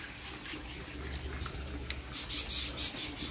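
Water pushed by a pump machine pours out into a red tilapia pond, a soft rushing and splashing flow with brief rubbing noises, rising a little louder toward the end.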